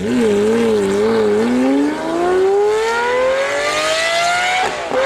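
A high-performance stock supercar engine revs hard, its pitch climbing steadily as it accelerates, loud and close with a screaming tone.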